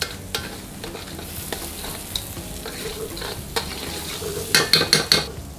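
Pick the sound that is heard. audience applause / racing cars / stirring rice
stirring rice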